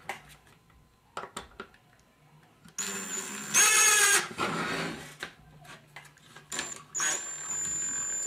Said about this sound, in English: Now be careful drilling those down, especially with power drills